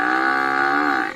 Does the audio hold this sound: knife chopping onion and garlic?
no